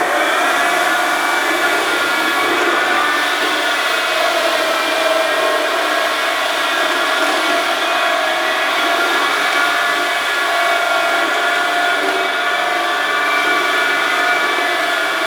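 A floor scrubber works over a sprayed epoxy garage floor, giving a loud, steady motor whine with broadband hiss, continuous and alone.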